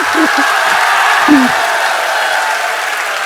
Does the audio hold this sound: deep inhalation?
no